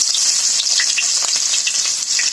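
Onion, garlic and ginger paste hits hot oil already seasoned with bay leaf, giving a loud, steady close sizzle with faint crackles and stirring scrapes, no voices.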